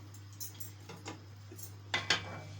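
A metal lid set onto a cooking pot of lentils for Egyptian koshari on a home stove, a few light clinks then two sharper metallic clanks near the end over a steady low hum.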